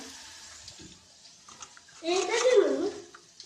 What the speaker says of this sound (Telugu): పసుపు వేసుకొని వాటర్ అయితే ఇలా పోసుకోవాలి